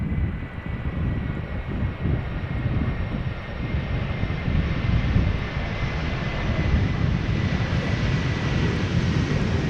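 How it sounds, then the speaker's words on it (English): A Suriname Airways Airbus A330-200 arriving from Paramaribo at Schiphol Airport produces a steady, loud jet roar that fills the whole stretch without a break, holding a broad, constant rumble from start to finish. "This is Suriname A332 arriving from Paramaribo, the successor to the A340."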